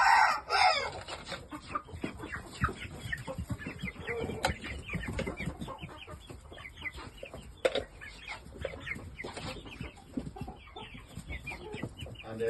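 Shamo gamefowl roosters crow and cluck in a pen, a loud close crow opening the sequence, followed by steady overlapping clucking and scattered calls from several young stags nearby, with no talk over it.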